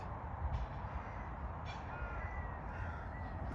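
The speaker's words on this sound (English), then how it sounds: "There's loads of crows." Crows caw repeatedly over a steady rumble of wind or combine harvester machinery during a summer barley harvest, the calls fairly distant and scattered.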